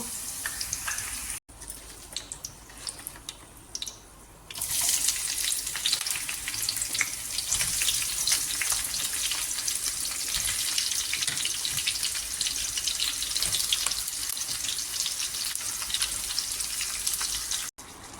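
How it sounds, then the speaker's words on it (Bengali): Potatoes deep frying in oil for a biryani, a loud, dense crackling sizzle that surges up after a quieter start and holds steady close by. "আলুগুলোকে এবার ভালো করে লাল লাল করে ভেজে নেব"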